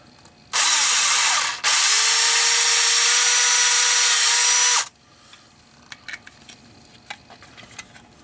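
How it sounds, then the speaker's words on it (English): A power drill drilling screw holes whines loudly for a few seconds, briefly pausing once before running again, then stops, leaving faint clicks and handling noises. "drill the other holes"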